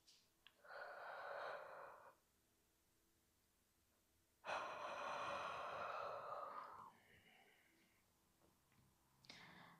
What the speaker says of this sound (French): Et on bâille.